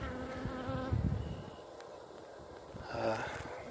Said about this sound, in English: if you see bees here at the entrance fanning